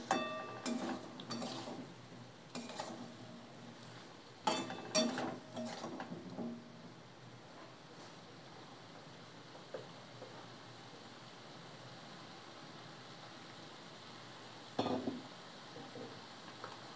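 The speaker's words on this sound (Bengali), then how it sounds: "একটু গুড় দিলাম, গুড় দিয়ে একটু কষাচ্ছি।" Clinking and scraping of a spoon stirring potato curry with jaggery in a pan, in a few short bursts with quieter gaps and a faint sizzle beneath.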